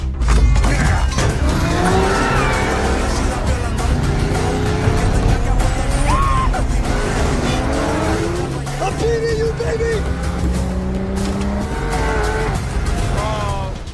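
Cars race in a scene from the film Fast X, with engines roaring and tires squealing over a dense, loud mix of music and effects, sustained throughout.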